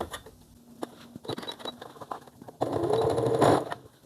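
A sewing machine stitches the final seam of a child's romper, scattered light clicks and taps giving way to a louder steady whirring burst of stitching near the end.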